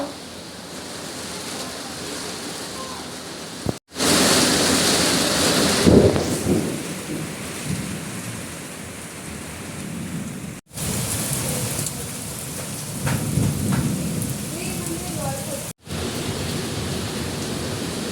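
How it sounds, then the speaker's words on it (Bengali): Heavy rain pours steadily during a storm seen from a rooftop, with loud rumbles of thunder swelling in the middle and again later, the downpour constant throughout. "বৃষ্টি হচ্ছে"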